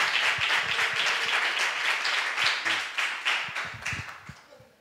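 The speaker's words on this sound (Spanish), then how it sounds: "sé que habéis aplaudido." A congregation applauds after a sermon, the clapping starting dense and then thinning into looser, individual claps that fade out near the end, fairly close and without speech.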